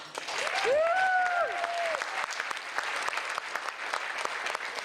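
An audience claps and cheers loudly, with a short whistle near the start, then steady applause that continues throughout.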